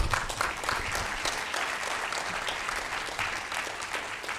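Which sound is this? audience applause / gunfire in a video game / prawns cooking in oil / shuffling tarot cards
audience applause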